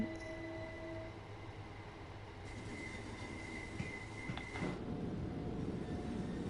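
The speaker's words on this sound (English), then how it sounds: "Through the train wash we go." A train rolls slowly through a train wash, with a steady low rumble of wheels and machinery, tonal hums from the equipment, and a rising broadband wash of spray and brushes in the last couple of seconds.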